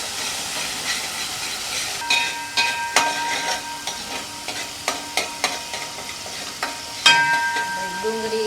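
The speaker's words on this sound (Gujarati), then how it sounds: "ડુંગળી, આદુ, લસણ બધું સતળાઈ ગયું છે." Onion, ginger and garlic paste sautéing in a pan, giving a soft steady sizzle with repeated sharp clinks and scrapes of a spoon stirring against the metal, close and moderately quiet.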